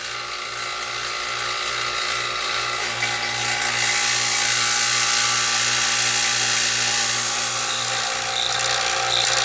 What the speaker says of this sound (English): The vacuum pump's been running for over 45 minutes now.